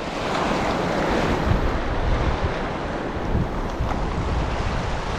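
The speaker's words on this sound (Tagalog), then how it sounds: "Asyado malaki alon." Loud, continuous roar of big ocean surf crashing and churning on a Philippine fishing shore, with wind buffeting the microphone.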